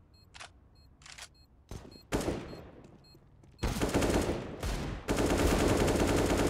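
Rifle spray in the CS:GO video game: bursts of automatic gunfire build from scattered shots into dense, loud sustained firing, with no commentary over it.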